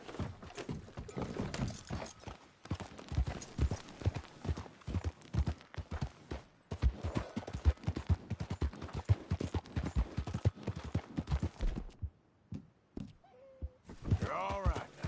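Horse hooves clip-clop at a steady trot in the Red Dead Redemption game, a dense rhythmic run of close hoofbeats with a brief lull near the end and a soft whinny-like sound.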